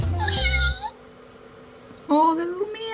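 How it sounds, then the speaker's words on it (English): Ugglys Spitten Kitten toy cat gives a couple of short, bright electronic meows close up, a cluster near the start and another toward the end, with a quiet gap between them. "Oh, the little meow is so cute."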